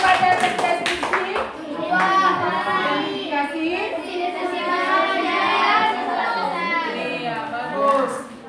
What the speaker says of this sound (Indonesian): Tepuk tangan lagi teman-teman